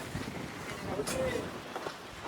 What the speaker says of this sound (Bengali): ওয়াচ টাওয়ারের উপরে চলে এসেছি, আর ঝড়ের মতো এখানে হাওয়া হচ্ছে।